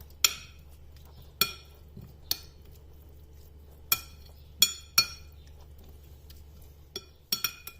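A spoon clinks against a bowl while garlic-ginger paste and lemon juice are mixed together, a handful of light, sharp taps scattered irregularly over a quiet background.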